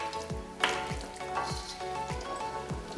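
Continuous crackling sizzle of boiling water poured into a hot pan of vegan food, with a sharp hiss near the start and low rhythmic bubbling underneath.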